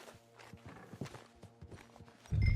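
Horse hooves clip-clop at a walking pace in Red Dead Redemption 2, a quick irregular series of light knocks close by, ending in a sudden louder low thud.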